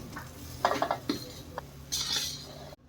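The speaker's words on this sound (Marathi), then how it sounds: "आता मी यात कैरी लावलेला भात टाकत आहे." Mango-flavoured rice tipped into a cooking pan with turmeric and coriander, a few close clinks and scrapes of a spoon against metal followed by a brief soft rustle.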